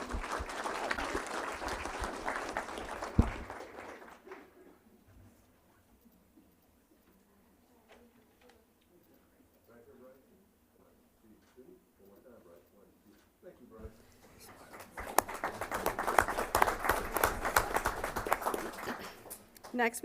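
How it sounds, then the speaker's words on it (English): Audience applause at a school board meeting rings out for about three seconds, falls away to a quiet stretch with some talking, then swells again into a second full, steady round near the end. "Let's give him a big round of applause."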